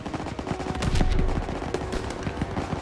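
Battlefield gunfire in Call of Duty WWII during the Operation Cobra mission of July 1944, dense rapid shots and bursts rattling over a low rumble throughout.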